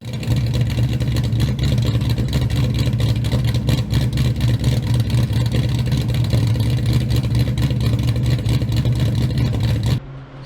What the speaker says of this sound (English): So this car is really loud.